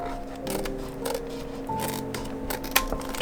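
Scissors cutting open a paper page of a mystery party game: a few short, crisp snips and paper rustles over a steady tonal background.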